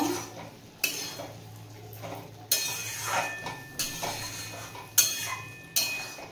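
A spoon scrapes and knocks against a pot as string beans and potatoes are stirred together, giving a series of irregular metallic clinks and taps at close range.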